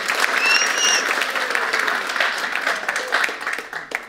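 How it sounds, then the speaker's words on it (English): A church congregation gives loud, continuous applause, with a whistle and a few raised voices cheering through the clapping, which continues to the end. "let's give him some applause."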